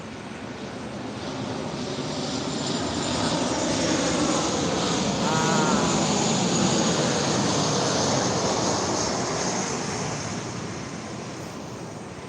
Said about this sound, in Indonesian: Nih ada pesawat lewat di atasku ini.